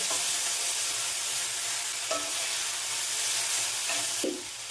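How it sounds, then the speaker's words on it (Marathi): Chopped tomatoes frying in oil with ginger-garlic paste in a spicy raw-peanut curry, a steady close sizzle with a few soft stirring scrapes and no voices. "दोन मध्यम आकाराचे टोमॅटो बारीक चिरून घेतलेले ते घालून घेऊयात टोमॅटो छानपैकी मऊ करून घ्यायचे"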